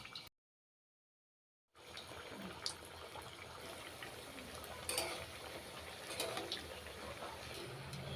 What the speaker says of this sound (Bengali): এখন আমরা কোফতাগুলি ভেজে নেব